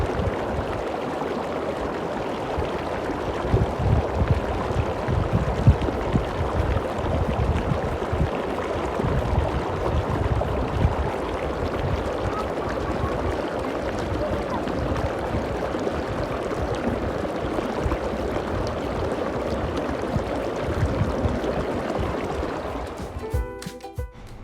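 An artificial waterfall at Al Karaana Lagoon in Qatar roars as a continuous, broad rush of falling water, loud and close, with no voices and a brief rustle at the very end.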